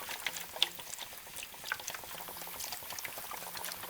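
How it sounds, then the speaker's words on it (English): Gentle water trickles and patters softly onto soil in indoor seed trays, a quiet, continuous pouring with small drips, close by and without talk. "So we'll water them in."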